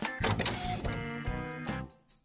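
A printer runs while printing a photo: a busy stretch of mechanical whirring, clicking and rattling with short bursts and pauses, close and fairly loud before it stops abruptly.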